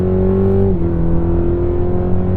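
A 2023 Cadillac CT4 engine revs hard in sport mode, a loud, steady drone with a brief dip in pitch early on, close and alone with no talk.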